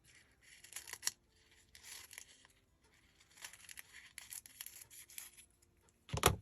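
Scissors snip paper for a handmade journal pocket, soft crisp cuts coming in short irregular bursts, quiet and close, with a louder clatter at the end.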